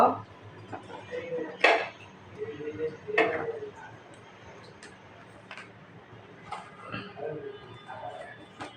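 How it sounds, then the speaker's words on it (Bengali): A knife taps and clicks against a cutting board a handful of times as it cuts an eggplant, quiet and irregular, with faint kitchen clatter between cuts. "এখন বেগুনটা আমি কেটে নিব"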